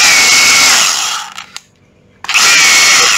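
A cordless 36V brushless four-function Hilti or Makita rotary hammer runs in hammer-drill mode. It makes a loud, steady, high whirring that cuts out for about a second, then starts up again at full speed.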